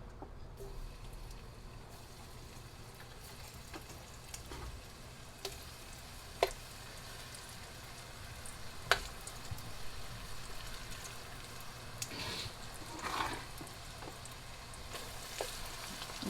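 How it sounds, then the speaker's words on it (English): Fries coated in salt, pepper, paprika and flour deep frying in hot oil give a steady, soft sizzle throughout, with a few sharper pops and clinks rising above it. "We're gonna go ahead and deep fry them."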